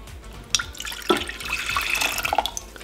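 Water pours and splashes into a tall saucepan on a stove, close and fairly loud, with a few sharp splash accents over a steady running flow and no talking.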